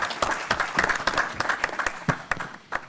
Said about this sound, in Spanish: quiero terminar solicitando un aplauso para los panelistas